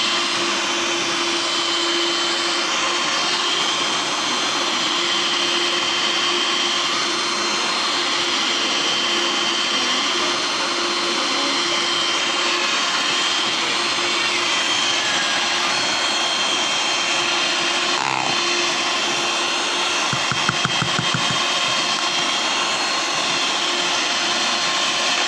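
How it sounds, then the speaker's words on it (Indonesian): An electric mixer beats eggs, butter and emulsifier into cake batter for pineapple layer cake, a steady loud whirring drone that runs unbroken throughout with no talking. "Mixer sampai benar-benar teksturnya halus dan tercampur merata."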